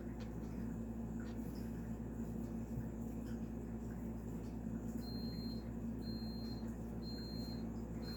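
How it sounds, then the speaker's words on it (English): A coffee maker's soft electronic beep repeats four times at a steady pace over a constant low hum, faint and in the background. "That beeping is not at your house, it's in mine. My coffee's almost ready."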